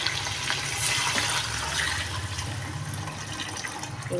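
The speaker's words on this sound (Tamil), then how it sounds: "அதுக்கு மூணு லிட்ரு தண்ணி நான் சேர்த்துக்கிறேன்" Three litres of water pours steadily and continuously into a cooking pot, a loud, close rushing splash with no pauses.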